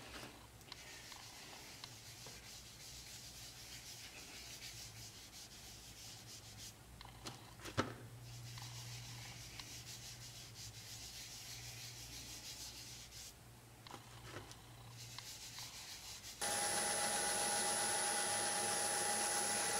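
Continuous sanding of a spinning walnut bowl on a lathe with abrasive sanding paste, a steady abrasive hiss with a low motor hum, growing brighter and louder near the end.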